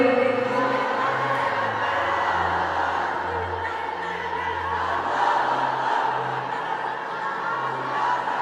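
A large congregation at a Bengali Islamic sermon roars a sustained, loud collective chant of takbir, a continuous crowd of voices filling the space without pause.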